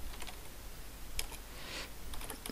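Someone types on a computer keyboard while entering slide notes in a presentation, producing faint, close, irregular key clicks in a few short bursts against a quiet background, with no talking.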